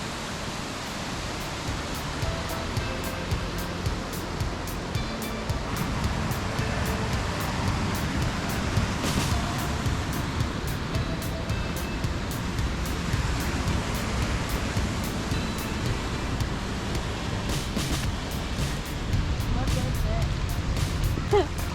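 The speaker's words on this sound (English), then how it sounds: "Here's the waterfall we came to see." A waterfall on Brinks Fall Trail in Wyoming roars as a continuous broadband rush of falling water, steady and close, filling the whole clip without pause.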